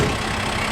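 A farm tractor's engine idles close by near a trailer, holding a steady, even rumble from start to finish with no talking over it.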